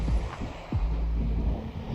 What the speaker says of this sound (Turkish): Şimdi biraz rüzgar olduğu için deniz çok hafif karışmış durumda.